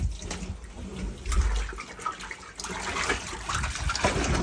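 Water pours and gushes as it is drained out of a dirty household water tank that has filled with rainwater debris, a continuous splashing flow with uneven surges, fairly close and without voices.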